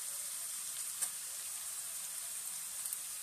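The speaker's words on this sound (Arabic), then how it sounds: "كما تشوفوا هذايا الفلفل والبصل نتاعنا تقلى" Peppers and onions fry in a pot, with tomato about to go in: a steady, soft sizzle and crackle with a faint stir, close and alone.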